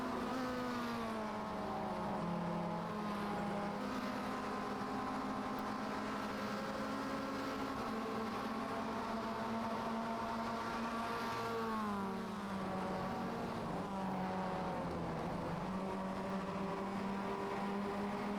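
Race car engines from a Mazda racing series climb the mountain straight at Bathurst, giving a steady, loud, continuous drone with the pitch rising and dipping as the cars shift gears.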